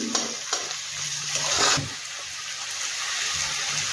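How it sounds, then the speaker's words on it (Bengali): Onion frying in a pan being stirred for a fish and taro dish, a soft steady sizzle broken by brief louder scraping stirs near the start and middle, no voices. "এবার পেঁয়াজটা একটু ভেজে গেছে"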